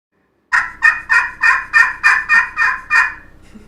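A slate turkey call imitates a gobbler, producing a rapid burst of about ten sharp, loud rattling gobble notes close by, followed by faint rustling.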